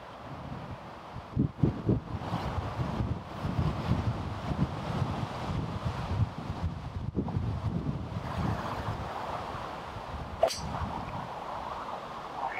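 Steady wind buffets the microphone across an open golf course, a continuous low rushing roar with gusty swells, while a golfer's ball drifts toward the green.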